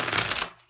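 Silk matte tarot cards with black edges shuffle in a quick, close papery riffle of dense flutters that fades out after about half a second.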